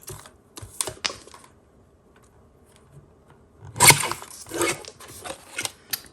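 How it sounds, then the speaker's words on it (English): A small paper trimmer slices a greeting from card stock, giving crisp clicking and sliding blade strokes in short bursts separated by quiet pauses. "I'm going to take my tiny trimmer and cut the greeting out and then trim on each side of it"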